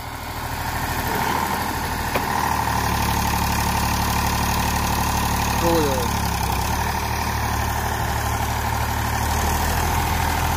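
A heavy Eicher tractor engine idles loudly and steadily nearby, a continuous low rumble with a faint brief mechanical chirp partway through.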